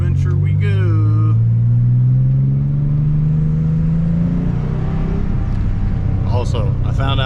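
A Nissan 300ZX with a turbo conversion and catalytic converters, heard from inside while driving: a steady, loud engine drone that rises in pitch as it accelerates and then settles, with a voice speaking over it at the start and end.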